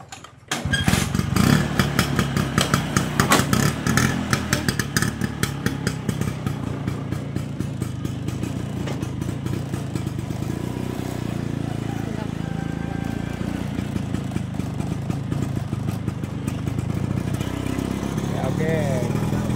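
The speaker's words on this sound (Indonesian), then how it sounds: "Kita naik skuter." Scooter motorcycle engine starts and putters steadily while riding through town, a constant close drone with people talking over it.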